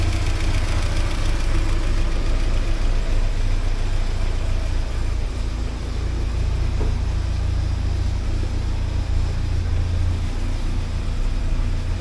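A warmed-up 1979 Porsche 924 engine idles steadily and close by, a continuous low rumble with no talking over it.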